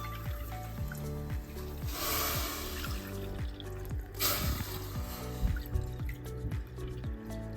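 Water is poured into a bowl of lentils being prepared for a puran filling, giving wet dripping and splashing sounds up close, with a couple of brief louder gushes; no speech.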